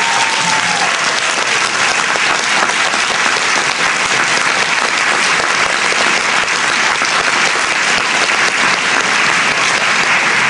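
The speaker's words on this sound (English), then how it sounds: "Let's give this panel a big round of applause." A crowd applauds a discussion panel, dense and steady clapping filling the whole stretch, loud and close with no voices over it.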